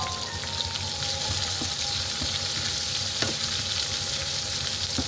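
Ginger, curry leaves, garlic and green chili fry in hot oil for a pork fry, giving a dense, steady sizzle at close range that barely varies, with a few faint clicks underneath.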